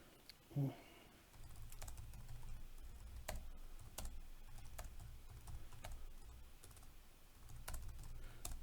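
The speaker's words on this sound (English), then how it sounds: "Sorry, I'm typing." Typing on a computer keyboard, quick irregular clicks and taps clustered close to the mic in bursts with short pauses, fairly quiet, after a single louder knock near the start.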